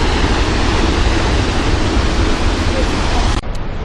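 A Yosemite waterfall roars steadily and loudly at close range, a dense rushing wash of falling water that cuts off sharply just before the end.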